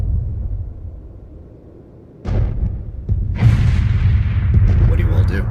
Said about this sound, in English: there is the sound of a distant explosion